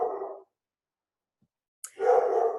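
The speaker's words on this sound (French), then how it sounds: "Désolée pour le bruit, mon chien, il a vu quelque chose dehors." A dog indoors barks at something outside in two loud, close bursts of rapid barking separated by about a second and a half of silence.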